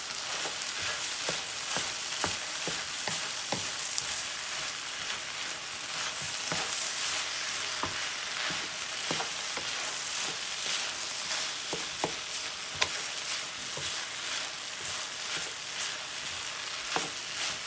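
Thai-style fried rice with sesame oil and soy sauce stir-fries in a pan, a dense, even sizzle peppered with sharp crackles and frequent clicks of a utensil, continuous and close with no talk.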